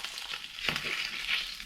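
Bacon frying in a pan, a continuous crackling sizzle at moderate level with a brief stirring or shifting sound midway.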